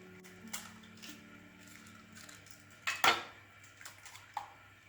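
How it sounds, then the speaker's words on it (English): Cooking two eggs into a milk and cornflour mixture for mini quiches, with quiet clinks of bowl and utensils, a sharp crack and splash near the middle, and a few light taps after. "we're going to add 2 eggs to the milk mixture"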